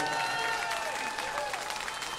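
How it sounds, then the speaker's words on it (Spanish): Concert audience applause at a live 2022 show, a steady, dense wash of clapping heard from within the crowd, with talk and sustained tones running over it throughout. "Un aplauso para ellos, por favor."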